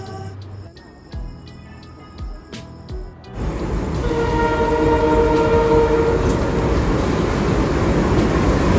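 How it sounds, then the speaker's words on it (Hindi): Train pulling into a railway station on the Ahmedabad to Jaipur route, quiet platform sounds and clicks at first, then a loud rumbling roar of the approaching train with a sustained horn tone. "ये हम ट्रेन का इंतज़ार करते हुए वेट कर रहे हैं कब ट्रेन आएगी हमारी"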